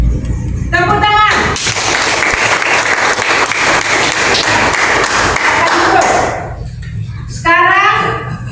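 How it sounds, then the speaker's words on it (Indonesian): A group claps together after a classroom presentation during a teaching assessment session. A short voice is heard first, then steady applause follows for about five seconds before it stops, and talking resumes. "Tepuk tangan."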